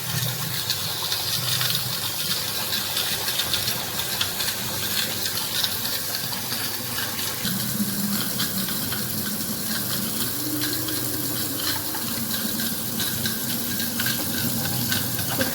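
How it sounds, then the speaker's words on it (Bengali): Tap water runs steadily into a pot of rice being rinsed by hand in a home kitchen, a continuous splashing gush with soft swirling and sloshing throughout, no talking. "চলো চালটাকে ভালো করে ধোবো।"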